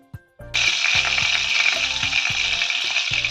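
Fish pieces drop into hot oil for deep frying: a short clatter, then a sudden loud bubbling sizzle that stays steady and close to the end.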